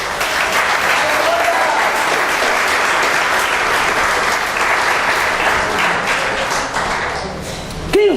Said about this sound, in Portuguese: eu quero ouvir e escutar um aplauso da parte de vocês